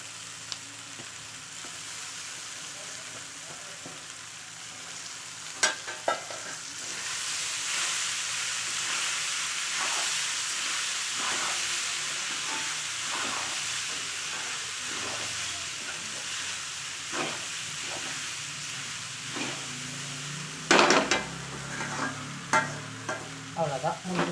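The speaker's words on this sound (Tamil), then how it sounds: "மஞ்சள் தூள் சேர்த்து மிக்ஸ் பண்ணதுக்கப்புறம் இது ஊற வச்சு எடுத்து வச்சுக்கிற போவையை சேர்த்து" Soaked poha with turmeric is stirred in a hot pan, a soft continuous sizzle and steam hiss running under repeated scraping stirs, with a louder clatter of stirring near the end.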